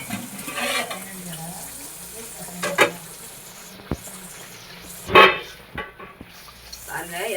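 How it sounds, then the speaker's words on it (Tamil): Sardines frying in oil in a pan for a Tamil-style fish curry, giving a steady soft sizzle with a few louder utensil scrapes and stirs. "இப்போ இது பொரியட்டும்."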